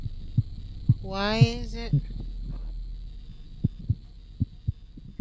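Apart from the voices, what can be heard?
heartbeat from an old machine in a video game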